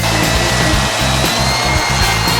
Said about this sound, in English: So hand me the sander, hand me the glue, let's finish this bad boy off.